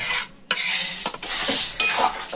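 Besan-fried pieces stirred in a wok for cauliflower khichuri, a spatula scraping and clinking against the metal in several close strokes over a soft sizzle.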